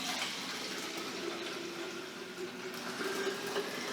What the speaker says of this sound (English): Fully open the cold water tap and fill your bottle to the fill line.